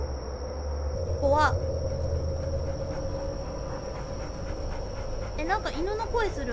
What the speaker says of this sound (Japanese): なんか犬の声する